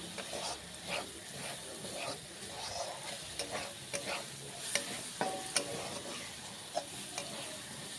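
Green chili and spice paste are sautéed in a pan for tadka, giving a soft, low sizzle under repeated scraping stir strokes and a few light clinks of a utensil against the pan.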